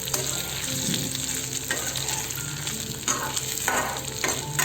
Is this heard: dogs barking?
no